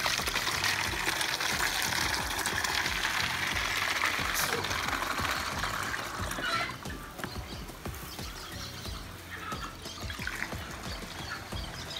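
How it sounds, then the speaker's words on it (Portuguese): Dissolved Bordeaux mixture, a blue copper solution, being poured into containers, giving a steady liquid splashing and trickling that softens and turns intermittent partway through, with a voice speaking over it. "Nós vamos envasar somente a calda que foi dissolvida"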